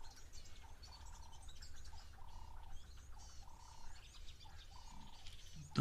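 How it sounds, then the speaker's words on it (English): A dark-capped bulbul calls outdoors at a waterhole, a repeated short phrase every second or so, fairly faint and distant over low background hum and other soft bird chirps. "Dark-capped bulbul."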